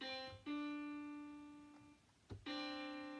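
Two sustained keyboard-like notes, C then D, a whole step apart, sound one after the other, each struck cleanly and ringing before fading, quiet and alone.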